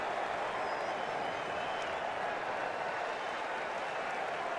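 Stadium crowd at an IPL cricket match, CSK versus RCB, applauding a pulled boundary shot with steady, dense clapping and cheering that holds evenly throughout without a break.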